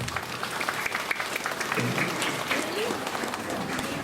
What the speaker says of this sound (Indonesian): Kasih tepuk tangan dan kebanggaan untuk anak-anak santri.